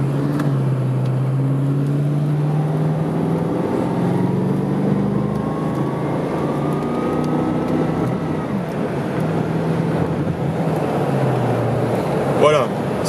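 Engine of a 1987 Chevrolet Corvette accelerating hard, with strong low harmonics rising in pitch through the gears, steady and loud, and a voice talking over parts of it.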